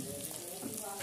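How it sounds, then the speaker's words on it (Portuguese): Beans sizzling and frying in a pan for feijão tropeiro, a steady crackling hiss close by with no pauses over a short moment. "Feijão já fritando."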